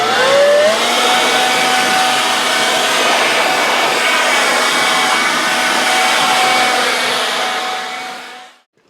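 A GOCHIFIX 21V cordless leaf blower runs steadily and loudly for several seconds, clearing grass clippings off a mower deck, with a brief pitch rise at the start and the motor cutting off at the end.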